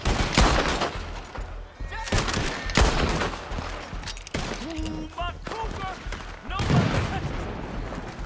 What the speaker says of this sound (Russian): О, тут пулемет.